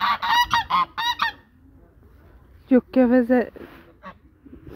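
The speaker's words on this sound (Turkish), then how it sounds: "Kaz bu." Several geese honk in loud, harsh bursts close by, a run of rapid calls at the start and another cluster midway, with a voice speaking briefly between them.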